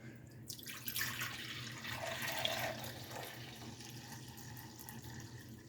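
Apple cider vinegar poured into a quart measuring cup, a faint steady trickling and splashing that swells over the first couple of seconds and then settles into a quieter flow.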